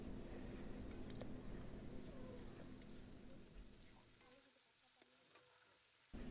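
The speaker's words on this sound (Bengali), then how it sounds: "এখানে আদা, শুকনো লঙ্কা, গোটা জিরা বাটাটা দিয়ে দিলাম। ভালো করে নেড়ে নেব।" A paste of ginger, dried chili and whole cumin sizzles loudly in a pan while being stirred, a dense crackling hiss that eases off partway through and then flares again at the very end.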